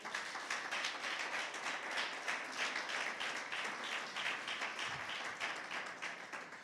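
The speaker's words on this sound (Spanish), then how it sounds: "Dale un aplauso a Jesús." A church congregation claps together in a dense, steady round of applause, loud and continuous without pause, with no talking over it.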